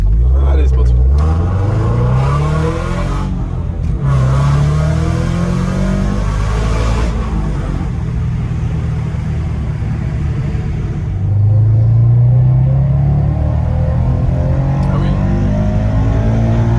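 Naturally aspirated Toyota GT86 sports car climbing a hill with its exhaust valves open, the engine note rising loudly through two hard revving pulls before easing off, with a short spoken exclamation over it.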